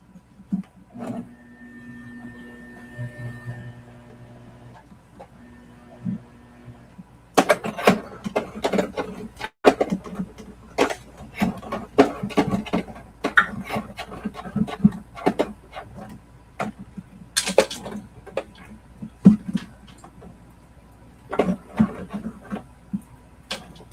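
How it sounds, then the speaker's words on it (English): Sewing machine at a 3 mm stitch running over clear vinyl that is catching, starting with a whirring hum, then stuttering, clattering bursts of stitching with irregular knocks. "It sounds like something is getting caught up."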